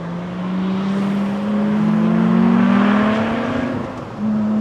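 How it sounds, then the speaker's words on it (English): Loud, close Lotus Exige Sport 350 exhaust in race mode, rising in pitch under acceleration, then a brief dip before the engine note returns steady. "Put it in race mode. Apparently the exhaust note changes a bit."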